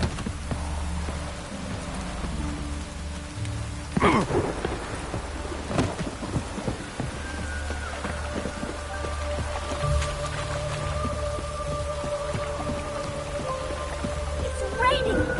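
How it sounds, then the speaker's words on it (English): Heavy rain pours steadily in Witcher 3, with thunder rumbling through the downpour around four seconds in and a voice speaking briefly under the hiss. "It's raining buckets!"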